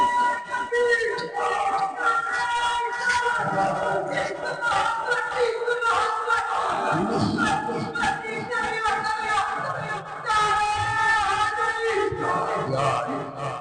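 A large gathering at a religious Friday sermon gathering chants a slogan in unison, loud rhythmic massed voices repeating a line in waves, with a harmonised, sung quality throughout.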